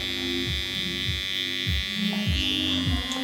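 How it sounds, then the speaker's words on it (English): Close electric hair clippers edging a man's hairline during a short fade cut, holding a steady high buzzing drone with repeated dips and bursts in pitch as the blade presses against the hair. "I'm going to move on to edging the hair now and sharpening this off"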